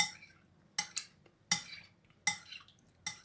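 A spoon stirs lemon juice into a weight loss drink, a few sharp clinks and scrapes against the glass or bowl in an irregular rhythm, close and fairly clear against a quiet background.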